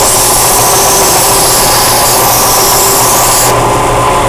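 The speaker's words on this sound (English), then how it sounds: "we're going to sand to the line, whether it's here or in this form." A power sander working a wooden spatula, giving a loud, steady, close whirring drone with a grinding texture that holds throughout and changes tone slightly near the end.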